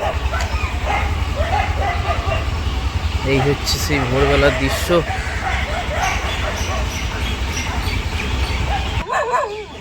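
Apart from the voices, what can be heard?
dogs barking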